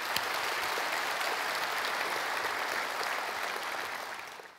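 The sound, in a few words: congregation applause thanking God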